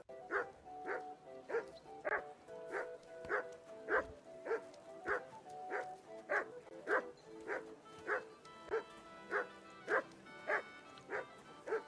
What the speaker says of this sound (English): Mutt, what are you barking at